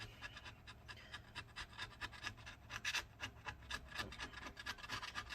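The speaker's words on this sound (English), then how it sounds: "We're gonna keep scraping at it." Steady close scraping and rasping as sticky adhesive residue is worked off a MacBook A1534 battery, a continuous rough scratching texture with repeated strokes, no talking.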